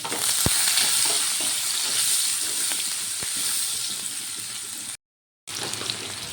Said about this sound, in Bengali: একটা মিডিয়াম সাইজের পেঁয়াজ আমি কুচি করে কেটেছি দিয়ে দিলাম দিয়ে একটু ভেজে নেব